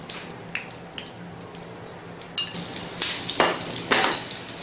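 Sliced shallots frying in hot oil in a pan, a steady close sizzle with crackles and occasional stirring scrapes and clinks growing louder toward the end.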